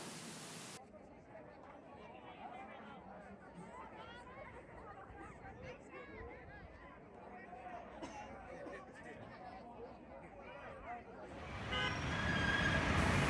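Dense street traffic in Dhaka, Bangladesh: a steady roadway roar with scattered horn toots and background crowd chatter, swelling louder toward the end.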